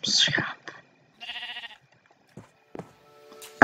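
A Minecraft sheep lets out a couple of short bleats amid brief bursts of close, quiet talking and game noises.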